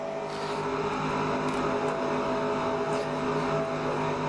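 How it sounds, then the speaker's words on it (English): Race car engine in the NASCAR Racing 2003 video game, a steady buzzing drone with layered harmonic tones and small wavers in pitch, heard alone without talk. "you can hear the engine revs drop as we hit the wall"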